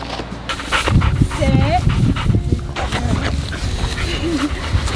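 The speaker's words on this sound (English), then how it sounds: "Do you want to go play with the puppies?" Puppies whimper and yip in short bursts while a person talks nearby, with rustling movement throughout.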